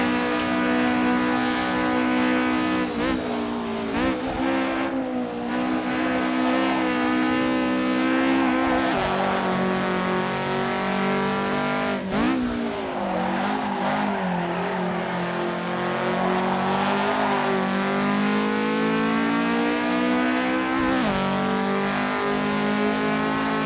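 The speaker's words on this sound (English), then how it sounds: "Obviously, very old car, very raspy sounding car." An old Japanese car in the Assetto Corsa racing game drones with a raspy, buzzing engine note, revving up and down through gear changes over a sustained, loud stretch with no talk.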